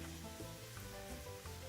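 Dried chiles dropped into a pot of boiling water to rehydrate for chicken tortilla soup, giving a steady low bubbling and sizzle-like hiss with no voices.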